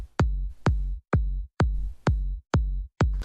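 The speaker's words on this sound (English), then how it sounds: "EDM requires a punchy but also heavy kick drum" Punchy, heavy EDM kick drum sample made in Mixcraft, played alone as seven loud, evenly spaced booming hits with sharp attacks and deep sustained low tails.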